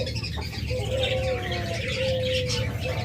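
Lovebirds in a cage give soft chirps and cooing tweets over a steady background hum, a continuous low murmur of bird sounds without speech.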